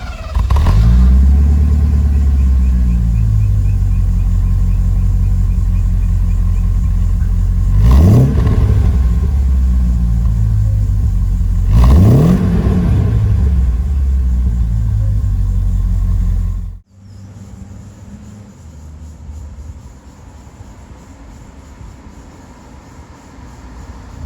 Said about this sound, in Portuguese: esse permanece o motor original com o escape que a gente vai ouvir e ficou muito sutil e esportivo o som